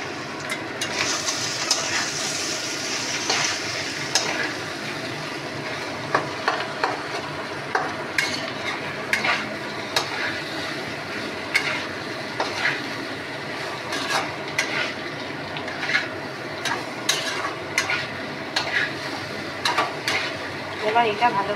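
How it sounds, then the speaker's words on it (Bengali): Spiced food with turmeric and salt being stirred and fried in a pan, a low steady sizzle broken by frequent spoon clicks and scrapes against the pan, close, with some faint voice in the background. "এবার এটা ভালোভাবে কষিয়ে নিচ্ছে।"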